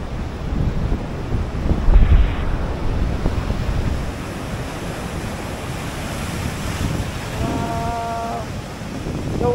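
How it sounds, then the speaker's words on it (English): Seawater surges over a shoreline after Hurricane Beryl in St Vincent and the Grenadines, a loud, continuous wash of waves and rushing water buffeted by heavy wind noise, with a brief tonal sound near the end and no speech. "Oh, look at the water going over here."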